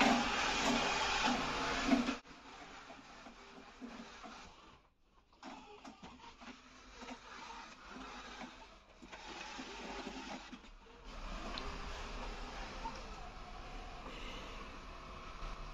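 A Roidmi EVE Plus robot vacuum's drive motor whirs and hums in fits while not vacuuming, loud at first, then quieter with brief pauses and shifts in pitch as it moves around nearby.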